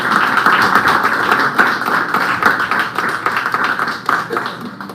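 A church congregation claps together in a sustained, dense round of applause at a worship service, loud and steady throughout with no voices over it.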